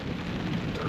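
Heavy rain drums steadily on a truck during a night of thunderstorms while camping, a dense, continuous wash of close rainfall with a low rumbling undertone and no voices.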